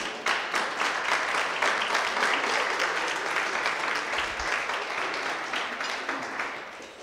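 Sustained audience applause fills a lecture hall, dense and steady clapping from many hands that holds at an even loudness throughout and tapers slightly near the end, with no voices over it.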